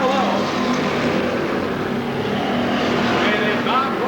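Street stock race cars battle down the back straightaway at Seekonk Speedway, a dense, roaring wall of engines that holds steady throughout, with an announcer calling the race over the noise.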